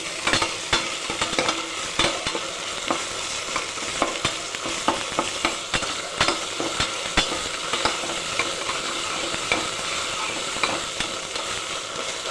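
Onions and ginger paste fry in oil in a pan for a brown rice vegetable pulao, giving a steady close sizzle broken by frequent sharp scrapes and clicks of stirring, with no voices.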